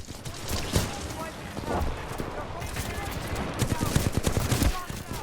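Rapid bursts of gunfire ring out in a first-person shooter video game, sharp repeated shots in clusters across the stretch, with a voice speaking over them.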